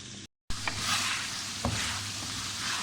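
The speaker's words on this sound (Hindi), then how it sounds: "चिकन हमारा फ्राई हो चुका है। अब इसके अंदर हम मसाले डाल लेंगे।" Pieces of fried chicken sizzle steadily in a hot pan for Hyderabadi chicken karahi as spices go in, a dense close hiss after a brief cut, with a couple of soft spoon knocks.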